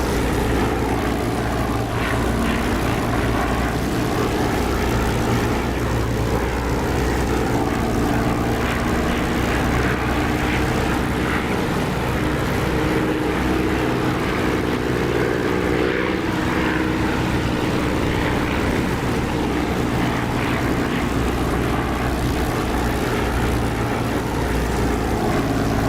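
A propeller aircraft engine in the DCS flight simulator drones steadily and loudly throughout, a constant close hum with no breaks.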